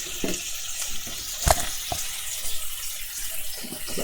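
Bacon sizzles softly in a pan, a faint steady crackle broken by a few sharp clicks and clinks from cooking utensils.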